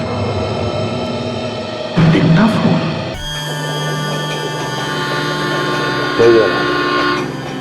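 Train horn played back on a dictaphone, sounding in bursts over a rumbling background, with people talking around it.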